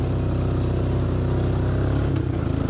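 A 1985 Honda Fourtrax TRX250 ATV engine drones steadily and loudly up a very steep hill at light throttle, a close, continuous rumble with a brief shift in pitch near the end.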